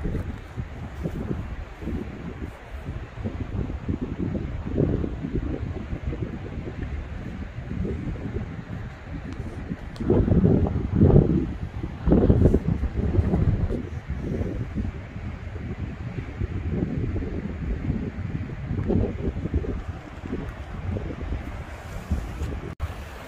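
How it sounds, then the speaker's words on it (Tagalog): Strong coastal wind at Beachy Head buffets the microphone in heavy, rumbling gusts that rise and fall throughout, with no one speaking. "Lakas ng hangin."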